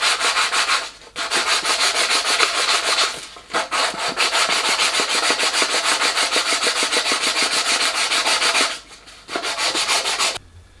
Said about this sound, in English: Followed by a bit of emery polishing on the bright areas